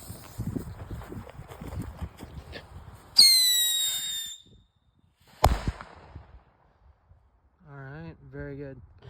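Small firecrackers go off outdoors, with a sharp whistling burst followed by a single loud bang, amid quiet background and a brief voice nearby.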